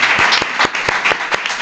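Studio audience applause on a comedy panel show, a brief burst of clapping with a few sharp, distinct hand claps standing out over the wash of the crowd.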